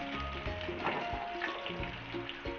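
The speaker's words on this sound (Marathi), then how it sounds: "ह्याच्यामध्ये कढीपत्ता कढीपत्ता टाकला आणि मिरच्या पण टाकल्या" Curry leaves and green chilies frying in hot oil for kande pohe, a steady close sizzle with brief crackles and a few light pan knocks, no talking.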